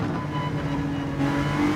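A race car engine in Gran Turismo 7 drones at full throttle, holding a steady, loud, close tone that climbs slightly in pitch near the end.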